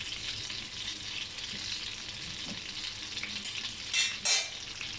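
Chicken malai boti skewers fry in hot butter and oil, giving a steady close sizzle throughout, with two brief louder spattering bursts near the end.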